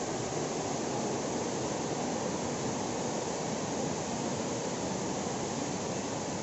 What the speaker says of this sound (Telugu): అదిగో వాటర్ ఫాల్స్.